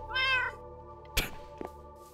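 A pet cat gives one clear, close meow near the start, followed by a soft thump and a couple of small faint knocks in a quiet room.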